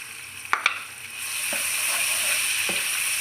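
Camel meat masala fries in a pan with a steady hiss that swells into a continuous sizzle, punctuated by a couple of brief metallic clinks and scrapes of stirring.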